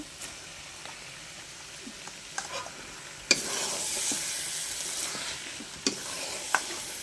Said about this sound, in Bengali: এবার কিছুক্ষণ নাড়তে হবে মাংসটা